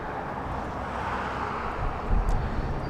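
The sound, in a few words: SkyWest Embraer E175 airplane at LAX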